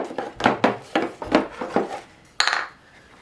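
A toddler scooping a ball with a spoon into bowls, producing about six close, uneven clinks and clatters of utensil on dish, then one sharper knock before quiet.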